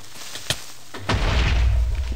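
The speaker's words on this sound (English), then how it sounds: "I just heard an explosion." A creeper blows up in Minecraft, first a sharp pop, then a sudden loud boom whose rumble lingers to the end of the moment.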